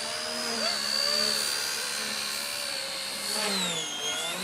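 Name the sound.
XK K123 AS350 RC helicopter motor during a loop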